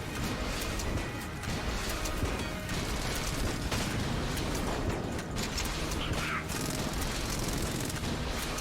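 Stinger gun in the video game Enter the Gungeon firing in a dense, continuous barrage of rapid shots and crashes over a busy, noisy game soundscape.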